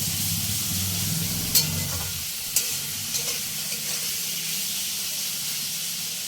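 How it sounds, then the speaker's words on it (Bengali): Chopped capsicum and tomato are stir-fried in a pan for spicy semolina, sizzling steadily with a few sharp scraping clinks of the spatula and no voices. "ক্যাপসিকাম কুচি আর টমেটো কুচি দিয়ে ভালো করে আর একটু নেড়ে নেবো।"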